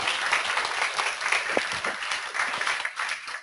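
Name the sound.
applause for a speaker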